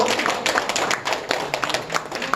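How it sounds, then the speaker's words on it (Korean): A group at a political gathering in Gwangju claps together in a fairly quick, uneven burst of many hands, close and lively, with no speech over it. "그래서 박수 한번 치고 갈까요?"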